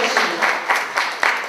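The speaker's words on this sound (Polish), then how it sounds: "Gorące i gromkie brawa" Loud applause fills a hall at a village Christmas carol contest in Młoszowa, a dense steady wash of many hands clapping with slight swells, heard alone.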